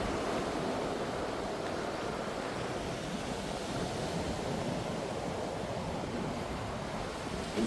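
Surf washes steadily onto the white sand of Sai Kaew Beach on Koh Samet, Thailand, making a constant broad rushing roar that stays fairly soft throughout with no voices.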